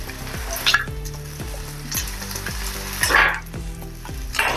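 Curry leaves, chopped carrot and capsicum sizzle steadily in a hot pan while making a semolina breakfast, with repeated stirring clatters of a utensil over the constant frying hiss; no talking.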